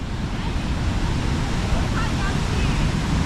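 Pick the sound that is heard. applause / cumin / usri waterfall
usri waterfall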